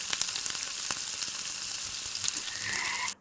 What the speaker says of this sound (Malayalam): ഇനിയിപ്പോൾ ഇതിലേക്ക് 1 ടേബിൾ സ്പൂണ് ഇഞ്ചി വെളുത്തുള്ളി പേസ്റ്റ് ചേർത്ത് കൊടുക്കാം.